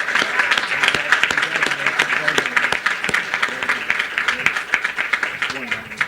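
An audience at a university social work pinning and hooding ceremony claps in a loose, uneven burst of applause, fairly loud and close, with some voices talking underneath.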